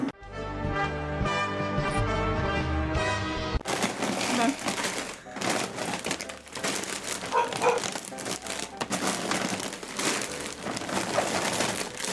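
A bag of potato chips crinkles and rustles as it is handled, a busy crackling texture that follows a brief burst of music, with talk in the background.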